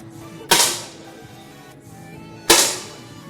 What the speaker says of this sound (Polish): Do kolejnego strzału ładuj.